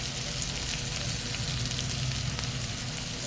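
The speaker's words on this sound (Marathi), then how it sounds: "2 मिनिटं झाले चांगले तेलात ती फ्राय झाली" Cluster beans (gavar) fry in hot oil in a pan, giving a steady, even hiss and crackle that stays constant and close for the whole few seconds, with no voices.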